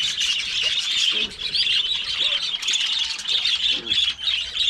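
Many birds squawk and chirp continuously in a dense, loud chorus, with a few lower calls breaking through near the listener.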